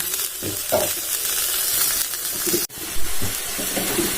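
Steady close sizzling and hissing of fenugreek greens frying in a hot wok, with occasional stirring scrapes and a brief cut in the sound midway.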